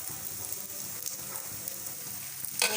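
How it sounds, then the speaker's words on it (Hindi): Missi roti, a besan flatbread, sizzles steadily in oil or ghee on a hot griddle, a continuous close crackle with no voices. "अब हम दोनों साइडों से इसको अच्छे से सेक लेंगे।"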